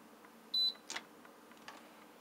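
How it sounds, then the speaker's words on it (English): A single short electronic beep from a John Lewis (Electrolux) JLTDH15 tumble dryer as its child lock is set, clear and close, followed by a faint click in a quiet room. "Press and hold these two, foot child lock, until it beeps."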